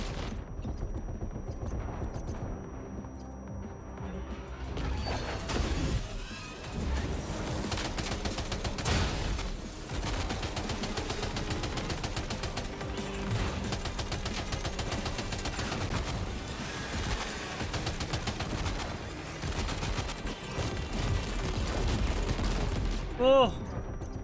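Sustained machine gun fire in Death Stranding 2, dense rapid bursts rattling almost nonstop for over twenty seconds, loud and close, with occasional heavier booms mixed in.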